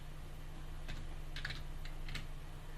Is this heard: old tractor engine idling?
no